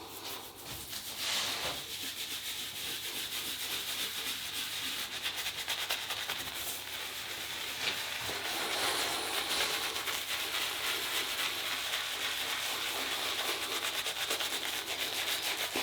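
Steady wet scrubbing of a boar bristle shaving brush working shaving soap into a lather, a continuous close swishing rub with no talking and no breaks.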